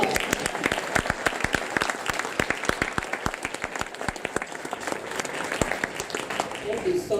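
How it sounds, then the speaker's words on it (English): Audience at a Black History event applauding, dense clapping from many hands with sharp individual claps standing out, steady and sustained throughout, voices audible underneath. "Can we give him another round of applause?"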